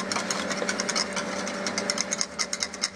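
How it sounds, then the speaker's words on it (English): A whisk scrapes rapidly around a bowl, mixing a salad dressing of vinegar, olive oil, mustard and pepper for a spinach and sweet potato salad. The strokes are quick, steady and rhythmic and sound close, with no talking. "So then I'm just going to whisk it together."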